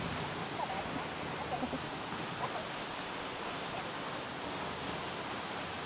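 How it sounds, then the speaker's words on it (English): Steady broadband rush of MacMac Falls waterfall in the Drakensberg escarpment, South Africa, a continuous even roar heard alone from a moderate distance. "And most impressive, the many waterfalls. The MacMac Falls,"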